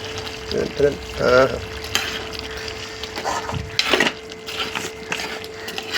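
Liver curry with masala powder, coriander, mint and curry leaves being stirred in a pan: scraping stirs and soft sizzling in short bursts, with a steady hum underneath and occasional clinks.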